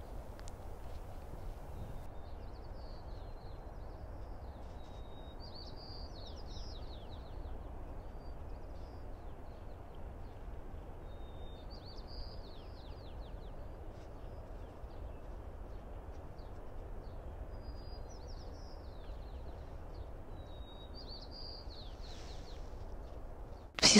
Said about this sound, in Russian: Весна, птички поют.